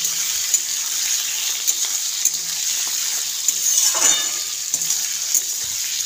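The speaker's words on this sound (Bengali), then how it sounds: "এবার আমি এর মধ্যে ধুয়ে রাখা ছাট ফ্যাপসাগুলো দিয়ে দেবো, দিয়ে একে ভালো করে কষতে হবে, ভালো করে লাল লাল করে ভেজে নিতে হবে।" Goat offal trimmings sizzle steadily in a hot pan, a bright continuous frying hiss with occasional stirring clinks and scrapes throughout.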